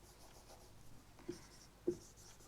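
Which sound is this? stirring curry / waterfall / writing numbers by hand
writing numbers by hand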